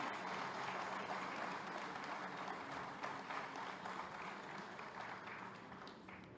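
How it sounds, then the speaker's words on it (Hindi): Sustained applause from an auditorium audience at a judicial services association conference in Uttar Pradesh, a soft, even wash of many hands that fades slightly toward the end. "सभागार से उम्मीद करूंगी कि तालियां बजती रहें"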